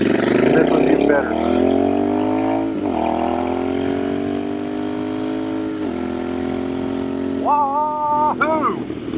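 A Royal Enfield Bear 650 twin with a high-mounted shotgun exhaust revs up and holds a smooth, loud, steady note close by, easing off and blipping the throttle a few times near the end.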